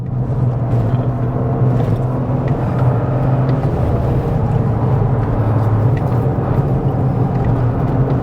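A Toyota GR Corolla drives a hill climb, its engine a loud, constant rumble heard from inside the car with no talk over it.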